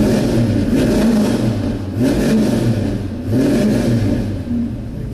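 A 1971 Chevelle SS with a 383 V8 idles while warming up, with steady rumbling and a few gentle revs swelling and falling, close and alone.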